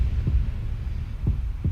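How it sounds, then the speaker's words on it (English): An astronaut's heartbeat sound effect drifting in space: low, muffled thumps spaced about a second apart over a constant deep hum, loud and alone. "We've added in the heartbeat of the astronaut"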